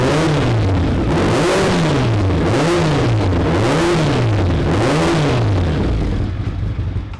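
Roketa GK13 go-kart fitted with a CBR1000F four-cylinder engine revs up and down repeatedly in loud, close, rising and falling sweeps, about five cycles, with no talk.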